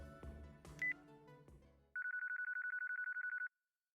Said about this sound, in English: I have another voiced phone call.